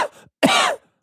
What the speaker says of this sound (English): That's my COVID cough.